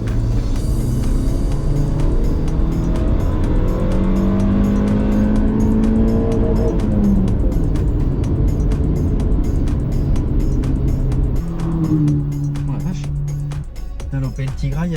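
A Honda CR-V engine on a dyno runs through a power measurement, its note climbing steadily in a long rising rev over several seconds, then dropping and steadying at a high hold, loud and continuous with a voice talking over it.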